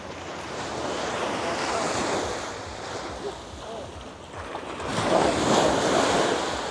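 Sea waves wash steadily onto a clean sandy beach in the Philippines, a continuous rushing surf that swells louder near the end, with wind buffeting the microphone and no talk.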